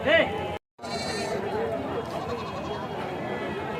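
Large male goats at a livestock market before Bakrid bleat in short, wavering calls near the microphone, with a brief dropout early on and a steady murmur of voices underneath.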